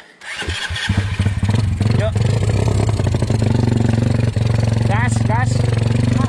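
A Kawasaki KLX 150 trail motorcycle with a bored-up engine revs hard while climbing a steep rocky off-road trail, a steady loud engine drone with rising pitch sweeps near the end, and people talk over it.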